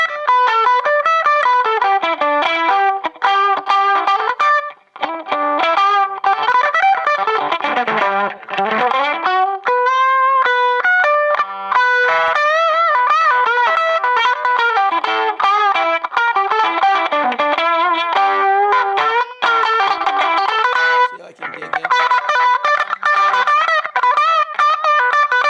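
An electric guitar, a Fender Stratocaster, plays a long melodic passage through an amp with reverb, notes bending and ringing with a distorted, reverberant tone, no voices.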